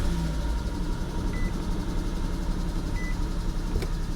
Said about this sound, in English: Start it back up again.